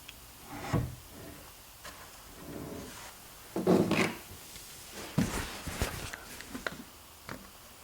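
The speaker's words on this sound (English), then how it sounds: "I'll carefully slide the drawer out" A wooden drawer from a SawStop outfeed table cabinet slides and knocks in several uneven scraping movements, close and fairly quiet, with small clunks along the way.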